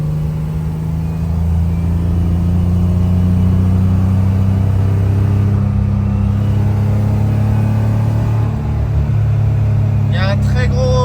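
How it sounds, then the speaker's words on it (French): BMW E30 on the road with a loud rear wheel bearing: steady low droning rumble and road noise inside the car throughout, with a brief burst of higher clatter near the end. "Il y a un très gros bruit de roulement à l'arrière."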